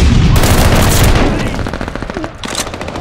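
Rapid gunfire from the video game Call of Duty Vanguard in ranked multiplayer, a dense burst of loud shots with booming impacts that thins slightly toward the end.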